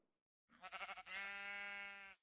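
A sheep in a video game gives a single close bleat, starting with a quick wavering stutter and then holding a steady nasal note before it cuts off, heard alone.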